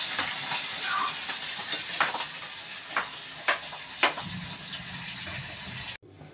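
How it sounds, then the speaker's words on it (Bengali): Fish curry bubbles and hisses in a pot on the stove, a soft steady simmer with a few sharper pops and clinks, no talking, stopping abruptly near the end. "মাছের ঝোল ফুটে উঠেছে"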